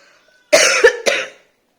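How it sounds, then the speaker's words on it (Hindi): Woman coughing indoors, two or three close, loud, harsh coughs in a quick burst lasting about a second, after near silence. "फिर पता नहीं क्यों मुझे खांसी हो रहा है"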